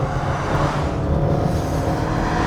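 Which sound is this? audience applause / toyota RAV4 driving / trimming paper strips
toyota RAV4 driving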